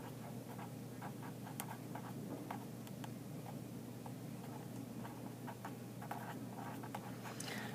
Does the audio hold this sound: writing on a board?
yes